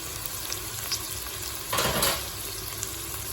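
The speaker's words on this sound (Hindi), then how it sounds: "टमाटर के बाद हम इसमें डालेंगे तकरीबन 1 टीस्पून लहसुन अदरक पेस्ट।" Tomato masala frying in a pan as garlic-ginger paste goes in, a continuous sizzle that swells into a louder hiss for a moment, with faint stirring, no talking.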